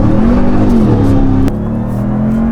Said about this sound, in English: if you want this truck to feel fast, all you need to do is click it into 4 Auto and lay into it.